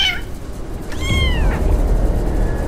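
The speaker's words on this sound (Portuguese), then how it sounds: "O que que foi, gatinho?" A cat meows twice inside a video game, a short high cry and then a longer rising-falling one, heard close and clear over a steady low background rumble.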